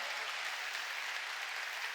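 A church congregation at a Sunday service applauds together, a steady, even hiss of many hands clapping at a distance with no distinct voices.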